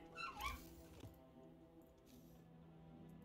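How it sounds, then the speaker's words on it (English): A dog whimpers and yips in a short, strained burst, whiny and unhappy as if throwing a tantrum, then fades into faint room background with a couple of soft later whines. "If you hear the dog, he's throwing a tantrum"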